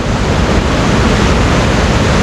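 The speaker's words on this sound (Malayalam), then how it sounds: "ചെറിയൊരു വെള്ളച്ചാട്ടം" Small Orappankett waterfall rushes as a loud, dense, continuous roar of falling water, close by with no pauses.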